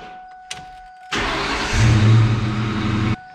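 A 1988 Saleen Fox Body Mustang GT with a freshly installed clutch cranks and fires, its engine catching with a loud, steady rumble that swells briefly before cutting off about two seconds later.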